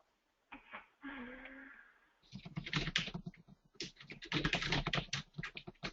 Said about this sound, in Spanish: Teclado se oye.